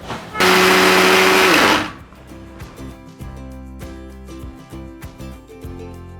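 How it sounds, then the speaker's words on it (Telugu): A mixer grinder whirs loudly as it grinds bread pieces into breadcrumbs for potato lollipops, a dense motor roar lasting about a second and a half before cutting off, followed by quieter kitchen clatter. "మిక్సీ బౌల్ తీసుకొని ఇందులో వేసుకొని మిక్సీ పట్టించేసుకోండి."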